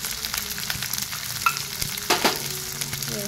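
Onions fry in a pan with ginger, green chillies and curry leaves, sizzling steadily close by while a spoon stirs and scrapes now and then; no talk.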